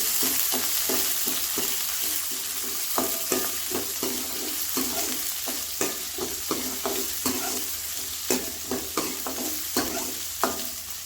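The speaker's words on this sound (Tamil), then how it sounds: "வெங்காயம் வாங்கி போட்டுக்கலாம் கருவேப்பிலை வெங்காயம் மிளகாய்" Onion, curry leaves and green chilli fry in hot oil for a Kongu Nadu style keerai poriyal, with a continuous close sizzle. Quick, repeated scraping stir strokes run throughout.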